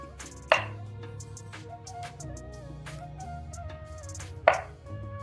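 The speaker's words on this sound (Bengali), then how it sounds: "সিদ্ধ ডিমগুলো আমি এবার রিং রিং করে কেটে নেব।" A knife cuts boiled eggs into rings: two separate crisp cuts against the board, spaced a few seconds apart, over soft background music.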